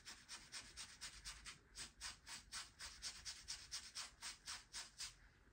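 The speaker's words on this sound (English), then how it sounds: "is just scrub the stains" A fabric stain is scrubbed with a cleaning mixture in quick, regular back-and-forth strokes, a close, soft rasping rhythm of about three strokes per second that continues throughout.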